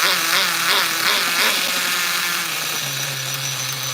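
A 2000 Duratrax Nitro Quake nitro RC truck engine idles with a high, buzzing whine that wavers early on and then settles into a steady drone, close and loud.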